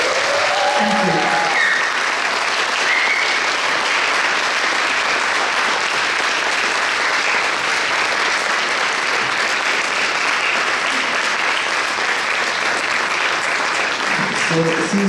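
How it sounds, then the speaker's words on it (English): An audience at a festival masterclass applauds continuously, a dense, loud, even clatter of clapping hands sustained throughout with no break. "please let's thank her with a round of applause"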